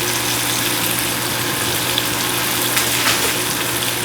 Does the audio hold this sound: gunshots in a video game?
no